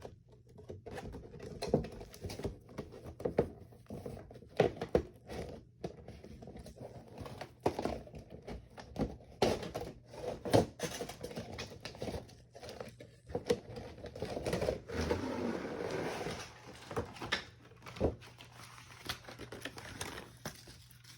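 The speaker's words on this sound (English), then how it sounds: "Now I'm going to unbox it." A red Ford GT model car being unboxed: quiet, irregular tapping, crinkling and rustling of packaging, close up with scattered small clicks and no talk.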